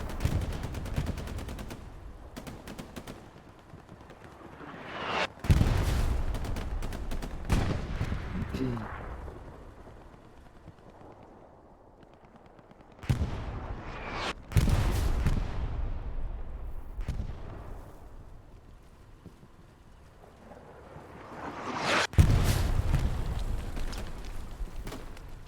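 Bursts of gunfire and artillery in the World War II shooter Hell Let Loose, with sharp loud cracks and booms separated by quieter rumbling stretches, some shots close and others distant.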